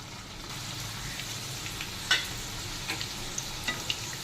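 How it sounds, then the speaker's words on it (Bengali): Spring rolls drop into hot refined oil in a kadai, giving a steady, close sizzle of deep frying with a few sharper crackles and pops scattered through, no voices. "এবার তেল গরম হয়েছে, আমি এই স্প্রিং রোলগুলোকে ছেড়ে দিলাম।"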